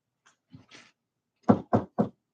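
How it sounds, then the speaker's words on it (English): Three sharp, evenly spaced knocks on wood ring out close and clear, preceded by a couple of faint soft taps, with no talking over them. "knock on wood."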